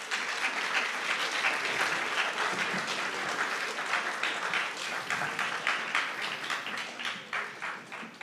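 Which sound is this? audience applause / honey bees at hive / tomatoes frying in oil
audience applause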